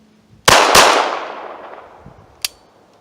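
A Ruger LCP pistol fires two quick, loud shots close together outdoors, followed by a long decaying echo and then a sharper third report about two seconds later.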